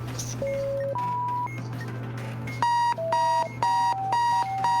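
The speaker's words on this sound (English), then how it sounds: "I've got an alarm and the studio is making noises." An alarm sounds in a quiz show studio, loud electronic beeps stepping through changing tones, then settling into a steady repeating pattern of pulses over a low hum.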